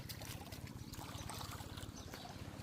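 Water trickles and flows close by in a steady, low gurgling stream with no voices.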